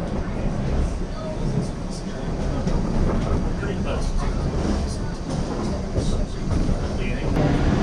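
A passenger train rolls through the mountains near the Matterhorn at Zermatt, Switzerland, its steady rumble and faint track clatter continuing throughout while a voice talks over it.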